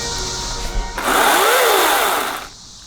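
A power tool cuts through the wooden edges of a homemade indoor water slide, bursting into a loud, steady whine with a rising and falling pitch for about a second and a half before cutting out.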